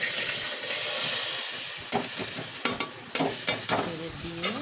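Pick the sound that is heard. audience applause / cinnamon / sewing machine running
cinnamon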